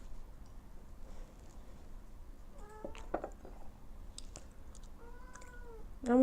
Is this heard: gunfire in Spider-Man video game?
no